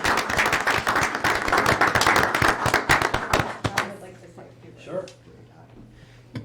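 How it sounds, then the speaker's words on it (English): Council meeting audience applauds in a chamber for nearly four seconds, a dense run of claps that then stops abruptly, leaving a low hum and a few spoken words close by. "Can we give them a big round of applause?"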